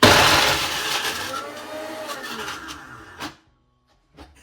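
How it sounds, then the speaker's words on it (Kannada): A kitchen mixer blender grinds dates in a loud, grinding burst that gradually winds down and cuts off, followed by near silence and a brief faint knock. "ಇದು 1 ಕಪ್ ಡೇಟ್ಸ್ ಇದೆಯಲ್ಲ, ಖರ್ಜೂರ ಇದೆಯಲ್ಲ, ಇದನ್ನ ಮಿಕ್ಸಿ ಬ್ಲೆಂಡರ್ ಹಾಕೊಳ್ಳೋಣ"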